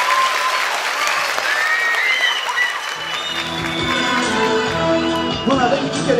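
An audience at a live performance claps warmly in a sustained round of applause. Whistle-like tones and musical notes creep in underneath and grow stronger midway through.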